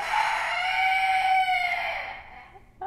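A silkie rooster crows loudly and close by, one long strained call that holds steady for about two seconds, then tapers off.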